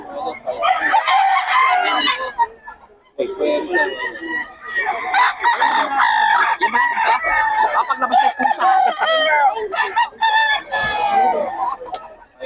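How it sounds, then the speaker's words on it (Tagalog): A rooster crows loudly and repeatedly, with clucking chickens close by and people talking over the birds throughout. "Diyan na pala manok"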